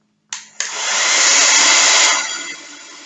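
A heat gun clicks on and blows a steady, loud, close rushing roar while shrinking PVC heat-shrink tubing, holding for about two seconds before the airflow winds down.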